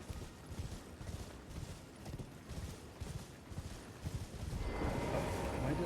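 A horse gallops in the video game Elden Ring, with steady rhythmic hoofbeats at moderate volume that build louder toward the end.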